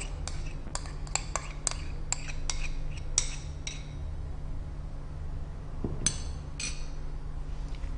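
Spoon knocking and clinking against a bowl while carrot not-tuna salad with vegan mayo is stirred, a run of sharp close clinks in the first few seconds, then quieter scraping with a couple more clinks near the end.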